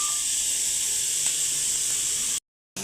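Pomfret fish searing on a hot, dry tawa with no oil, giving a loud, continuous close hiss that cuts off abruptly near the end.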